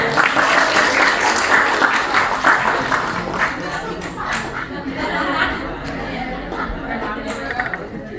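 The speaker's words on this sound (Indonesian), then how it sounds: "Ya, tepuk tangan ya." An audience at a sharing session applauds in a steady, loud wash of clapping mixed with chatter and light laughter, thinning into scattered claps and voices toward the end.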